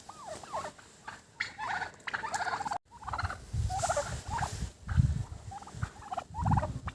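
Several startled farmyard turkeys gobble in rapid, overlapping bursts, close by, with scuffling and patter underneath between the calls as they run.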